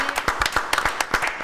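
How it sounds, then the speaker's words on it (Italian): Brief burst of applause and clapping from a studio audience on an Italian cycling television programme, sharp irregular claps filling the short moment without speech. "Un applauso."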